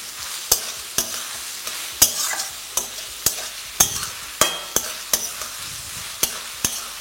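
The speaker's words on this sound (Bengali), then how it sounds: "এবার এই পেঁয়াজ আদা রসুনটাকে একসাথে খুব ভালো করে ভেজে নিই।" Chopped onion, ginger and garlic fry in a hot pan for an eggplant bharta, with a steady sizzle broken by a rhythmic series of sharp spatula scrapes and knocks as the mixture is stirred, close and fairly clear.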